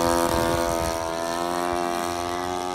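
A Balsa USA 1/4 scale Piper Cub model airplane flies close by, its propeller engine droning loudly and steadily with a rich buzzing whine and no talk.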